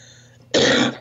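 A single sharp, loud cough bursts out after a moment of quiet, close to the listener.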